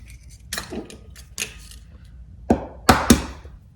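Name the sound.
eggs being cracked onto flour for fresh pasta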